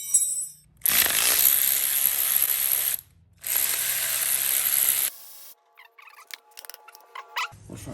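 A ratchet loosens bolts on a Yamaha Kodiak ATV engine during a rebuild: two long, loud bursts of rapid clicking ratcheting, followed by quieter scattered clicks and light handling noises.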